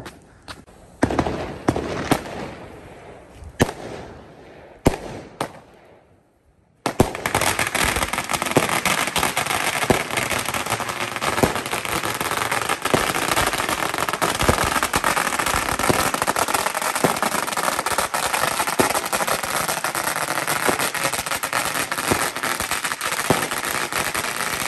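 A long string of firecrackers explodes in a rural village at Chinese New Year. A few scattered loud bangs come first, then a brief hush, followed by a dense, continuous crackling barrage that stays loud and close to the end.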